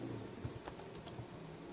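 Keys tapped on a computer keyboard while entering a grep command, a quick soft patter of about half a dozen keystrokes over a steady background hum, no voices.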